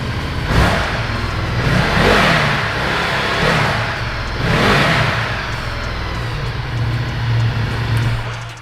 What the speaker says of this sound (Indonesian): Raungan mesin V2 itu bener-bener kasar banget. Khasnya L-Twin dari Ducati nih.